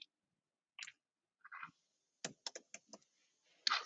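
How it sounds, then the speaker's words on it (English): Scattered quiet keystrokes tap on a computer keyboard, a few isolated clicks followed by a quick run of typing, close and faint. "just typing in some cricket there."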